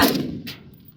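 A single AR-15 rifle shot fired at a 200-yard target, a sharp loud crack at the start that decays quickly, with a faint second report about half a second later.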